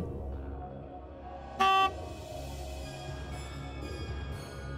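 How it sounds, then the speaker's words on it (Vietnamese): A Cub-style motorbike horn gives one short, bright honk as a sound effect in a spooky narrated story, standing out sharply over a low, steady background rumble. "Tiếng xe cúp quen thuộc vang lên và những tiếng bấm còi vọng tới"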